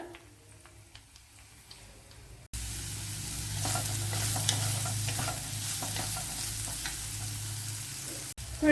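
Mustard seeds and two or three dried red chillies hit hot oil, bursting into a loud, close, continuous sizzle with light stirring clicks after a quieter start, and no talk.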